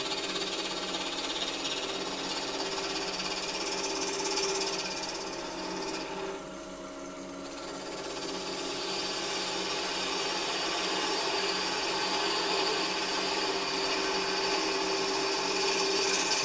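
A skew chisel cuts wood on a spinning lathe while an egg shape is turned. It makes a steady, continuous rushing whir with a brief dip midway, close and fairly loud.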